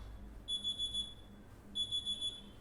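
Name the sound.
alarm clock ringing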